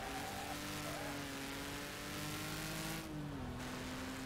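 Race car engines in Wreckfest roar continuously at close range, a loud sustained drone with a pitch dip near the end, carrying on without any break.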